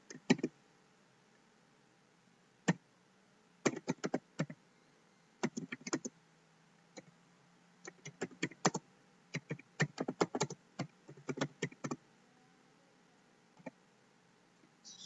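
Keys clatter on a computer keyboard as code is typed, arriving in short irregular bursts of close, crisp clicks separated by brief pauses.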